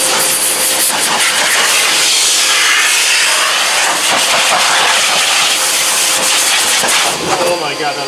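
BigBoi BlowR Pro heated car dryer blower running at full power, a loud, close, continuous rushing air hiss with slight fluctuations, steady for the whole stretch.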